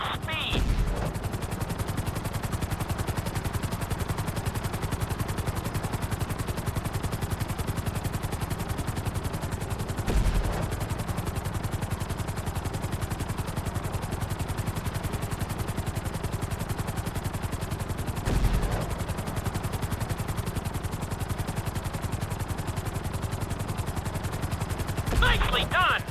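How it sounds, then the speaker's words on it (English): Helicopter in Grand Theft Auto 5 flying a flight school course, a steady loud rotor and engine drone filling the whole stretch, with brief bursts of heavier noise at a few points and no talk over it. "we'll see how well you handle the chopper"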